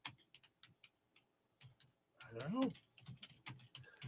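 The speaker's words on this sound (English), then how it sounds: "I will keep typing and then we'll get on with the show later." Quiet, scattered keystrokes tap on a computer keyboard in short bursts, with a brief murmur of talk and other faint noise in the middle.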